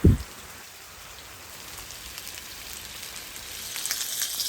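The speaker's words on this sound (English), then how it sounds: "it's raining" Steady rain patters down at a deer hunting camp in a constant hiss, with a brief thump at the start and no voices.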